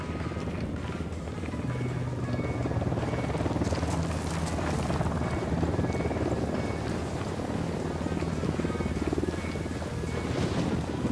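A helicopter in the video game Ghost Recon Wildlands gives a steady, broad rotor roar mixed with wind-like rushing, continuous and fairly loud for the whole stretch, with no talking.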